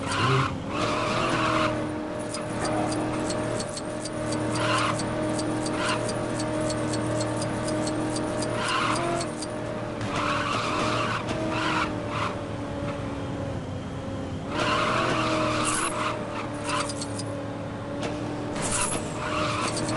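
Cars braking and skidding in the Lego Batman 3: Beyond Gotham video game: repeated tire squeals and skids over a steady engine hum, with several bursts of screeching spread across the run, no talk.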